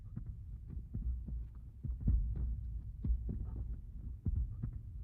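A heartbeat sound effect thumps in a steady lub-dub rhythm, deep and close, pulsing about once per second with a low hum underneath and no voices.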